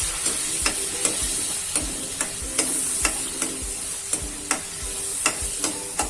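Spice masala frying in oil with a splash of water for a vasati-flower vegetable curry, stirred with a spoon: steady sizzle under regular scraping strokes roughly every half second, close and moderately loud.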